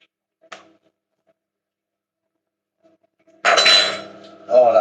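A metal pan clanks and scrapes while fried rice cooks: first one short clink, then near silence, then a loud spell of clattering and sizzling near the end.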